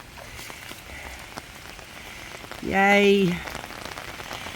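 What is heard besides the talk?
rain falling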